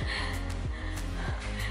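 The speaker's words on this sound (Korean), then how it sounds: "벌써 이렇게 헉헉댄다고?" A person pants heavily while climbing hospital stairs, with repeated loud, rhythmic breaths and gasps about every third of a second, close to the microphone.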